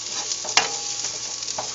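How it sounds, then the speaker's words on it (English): Garlic sauce stirred in a frying pan, a steady close sizzle with scraping strokes of the spoon and one sharper clink. "I'm just going to keep on stirring it"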